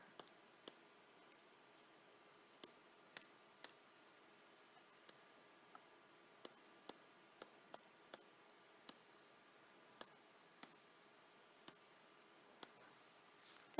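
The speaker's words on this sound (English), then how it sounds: "And then I can type it in the calculator." Calculator keys are pressed one at a time, giving a string of faint, sharp clicks at uneven intervals against a near-silent background.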